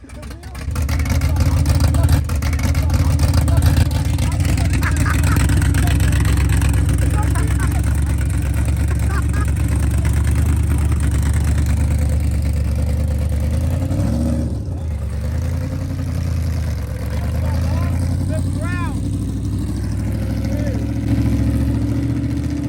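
A supercharged big block engine in a 1956 Chevy drones loud and close through a long stretch of driving, briefly surging at full throttle, with people talking over the engine noise inside the car.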